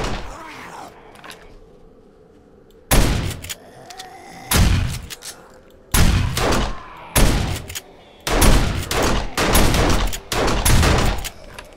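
Bursts of gunfire in the game 7 Days to Die ring out in repeated volleys with short pauses between, loud and sharp, with a few quieter thuds early on.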